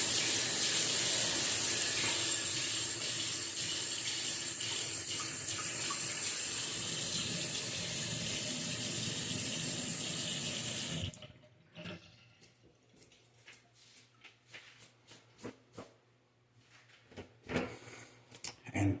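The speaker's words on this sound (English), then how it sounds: "Whatever hair you couldn't get, then you will rinse the sink out." Water gushing from a tap while rinsing out a bathroom sink, a loud continuous stream for about eleven seconds that stops abruptly, followed by scattered drips and small clatters.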